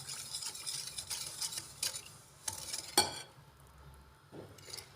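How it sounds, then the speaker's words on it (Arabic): Sugar whisked with oil and water in a bowl for a semolina almond cake, heard as quiet, close, irregular stirring and scraping strokes with a few sharper clinks of the utensil against the bowl. "هنا بعد ما دوبت مليح الزيت والماء ضفته للسكر، ضربتهم مليح"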